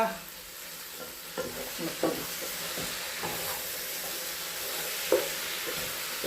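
Jackfruit pieces being stirred into masala in a pan, with a steady soft sizzle and occasional scraping clicks of the spoon, close and fairly quiet.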